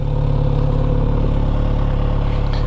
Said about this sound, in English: I probably should fire it up so you can have a listen to it while it's sitting here parked just idling.